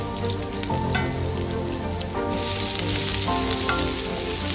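Minced onion sizzles and crackles steadily in hot oil in a wok, a dense frying hiss that grows brighter partway through, with faint stirring clatter underneath and no talking.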